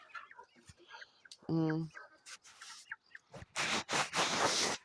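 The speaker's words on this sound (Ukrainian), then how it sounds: "Це в мене півник лігорна." A Leghorn rooster clucks and gives a short, sharp call among other farmyard chicken sounds, while a person talks quietly nearby.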